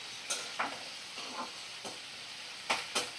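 Sliced onions sizzle quietly in a pan while being stirred, with several soft scraping and stirring bursts spaced irregularly over a low crackle. No talking.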